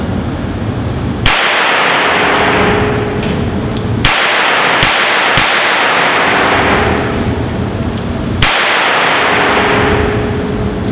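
A light James Bond-style firearm fired on a range in three long, loud, rapid bursts, each sharp onset followed by a dense sustained roar, with brief pauses between bursts.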